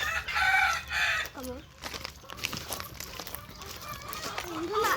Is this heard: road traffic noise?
no